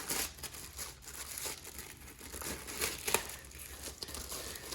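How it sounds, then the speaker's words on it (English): A Supcase Unicorn Beetle Pro case for a Galaxy Tab S7+ being pulled out of its plastic wrap, giving close, quiet crinkling and tearing with a few sharper crackles, no talking. "in the box, you're gonna get your Supcase wrapped in plastic"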